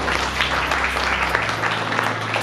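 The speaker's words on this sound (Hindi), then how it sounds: "बिमला बहन के लिए ताली बजा सकते हैं?" An audience at a church meeting breaks into steady applause for a woman, a dense, loud wash of clapping under a low hum, sustained evenly without any speech.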